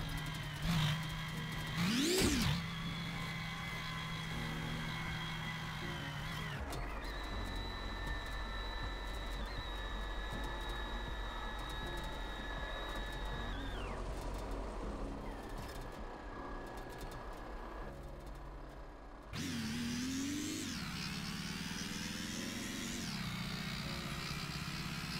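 Car engine revving in GearBlocks with a 3-speed automatic transmission, held at a steady drone, then dropping in pitch as the gearbox shifts on its own and revving up again near the end.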